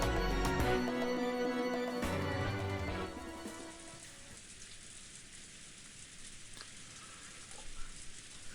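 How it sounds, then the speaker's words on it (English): Heavy rain pours steadily in a visual novel scene from Umineko, a dense continuous hiss that carries on alone after a musical passage fades out in the first few seconds. "The rain was still pouring down as hard as ever."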